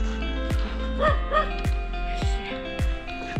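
Several dogs bark repeatedly along a trail-running route in Thailand, sharp close barks in quick succession with a few yips, against a faint background of voices.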